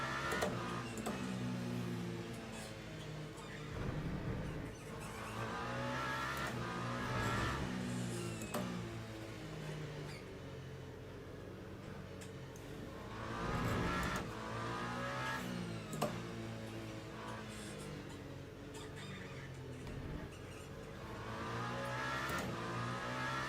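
A hybrid race car engine in Le Mans Ultimate drones and revs throughout, with a high-pitched electric whine rising and falling as it accelerates and shifts during an endurance race, no talking.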